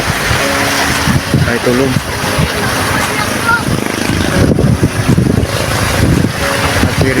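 Strong wind buffets the microphone on a seaside coast, a constant loud rumbling roar with waves beneath it, while someone speaks briefly over the noise.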